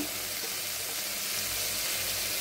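A spice mixture of coriander powder, turmeric, salt and sugar frying in a pan, giving a faint, steady, even sizzle that carries on unbroken with no voices over it.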